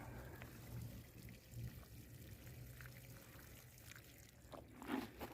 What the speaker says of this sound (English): you just kind of pour the fertilizer there